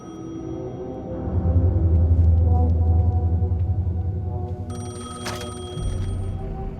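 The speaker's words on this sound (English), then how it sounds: "phone was ringing. Somehow I knew the call was for me." A telephone ringing in the video game Alan Wake 2, a ring heard from the middle of the span amid a low, rumbling game ambience, with no voices over it.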